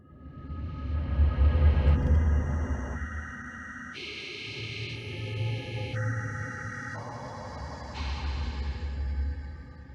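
Minecraft Cave 14 ambience: a glitchy electronic drone that jumps abruptly between stepped tonal blocks over a deep swelling rumble, steady and eerie with no voices.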